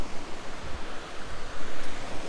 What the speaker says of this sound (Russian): Здесь шумно, река течет.